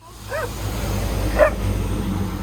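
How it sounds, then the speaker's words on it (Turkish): Two short, high dog yips, about a second apart, over a steady low rumble of background noise. "havlama Tommy gel buraya."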